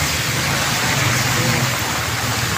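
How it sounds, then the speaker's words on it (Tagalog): Heavy rain pours down in Caloocan during a flooding downpour, a dense, steady roar of broadband hiss without pause, loud and close throughout with no voices. "lakas na ng ulan"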